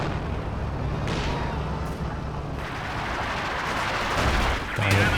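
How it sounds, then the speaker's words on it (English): Creeping artillery barrage in the World War II strategy game Company of Heroes 2, heard as a sustained dense rumble of distant shell impacts and bursts, with a heavier near blast toward the end, under faint talk. "Really good use of these creeping barrages as Lithuania getting some solid shots"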